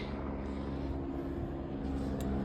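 A helicopter flies overhead in the mountains near Kedarnath, heard as a steady, fairly faint droning hum with a low tonal whine throughout.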